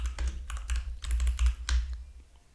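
Rapid, uneven clicks of fingers typing a command on a computer keyboard, close and fairly loud, with short pauses between bursts of keystrokes and no talking.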